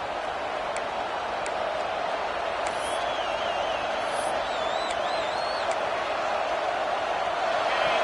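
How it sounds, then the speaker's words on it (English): A stadium crowd roars steadily at a college football game in Death Valley, a dense, constant wash of noise with faint whistles rising above it. "This crowd bringing the energy and noise early."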